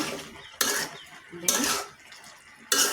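A spoon scrapes and stirs spice paste in a cooking pot while beef and yardlong beans are prepared, three distinct metallic scraping strokes spaced about a second apart, close and fairly loud, with quieter sizzling between.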